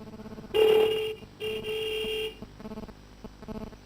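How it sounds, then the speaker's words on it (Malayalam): A car horn sounds in two sustained honks, the first loud and sharp, the second a little longer, followed by fainter beeping tones. "ഇവനെന്തിനാ ഹോൺ അടിക്കുന്നത്?"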